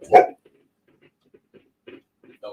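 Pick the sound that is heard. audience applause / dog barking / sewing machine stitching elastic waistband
dog barking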